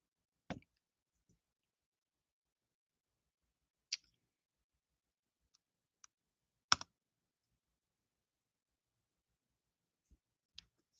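A computer mouse clicks a handful of times, sharp and isolated against near silence, irregularly spaced with long gaps between them.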